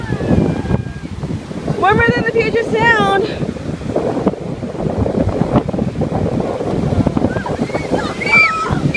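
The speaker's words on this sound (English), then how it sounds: "There's waves!" Ocean waves wash in with gusty wind buffeting the microphone, while excited voices shout and chatter over the surf nearby.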